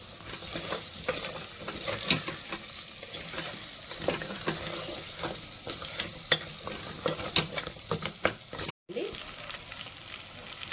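Mutton paya cooking with spices in a pan over a low flame, giving a steady close sizzle with frequent scraping stirs throughout.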